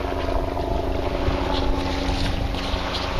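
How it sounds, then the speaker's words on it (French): Steady, roaring wind sweeps across open sea near Giens and the Embiez islands, a constant rushing gust with low rumbling buffeting, loud and close throughout. "L'arrivée du vent en direct."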